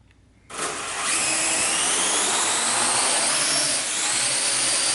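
A Parrot AR.Drone 2.0 quadcopter takes off indoors, its rotors spinning up abruptly from near silence into a loud, steady high-pitched whine that wavers slightly as it hovers.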